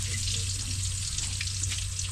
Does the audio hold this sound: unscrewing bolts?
no